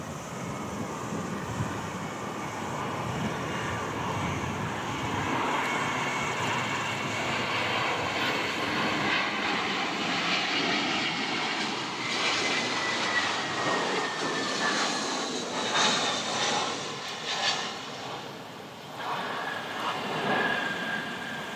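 A fixed-wing airplane lands at Wellington Airport, its engine roar loud and steady for about twenty seconds with a shifting whine as it passes, no talk heard.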